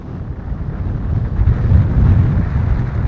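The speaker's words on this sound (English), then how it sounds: "don't know if you can hear me for this wind now" Strong gusting wind on an open fell in the North Pennines buffets the microphone with a loud, close, rumbling roar that swells and surges over a few seconds, with no voice over it.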